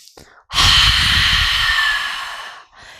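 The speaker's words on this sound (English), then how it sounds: "On your exhale, make a sound out the mouth" One long, loud breathy exhale through the mouth during yoga breathing, close and sustained for about two seconds, with a quick breath just before and after.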